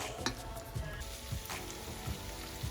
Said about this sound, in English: So I'm sauteing my onions and my peppers here.